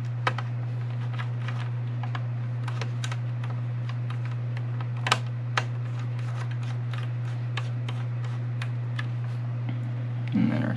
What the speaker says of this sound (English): Don't forget we need to now screw in those 2 screws.